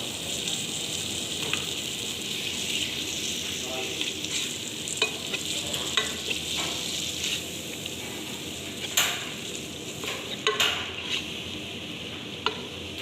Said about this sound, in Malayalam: അതിനുശേഷം നേരത്തെ തയ്യാറാക്കി വെച്ചിരുന്ന മസാലയിലേക്ക് നമുക്ക് ഈ ടൂണയുടെ മീറ്റ് ഇട്ട്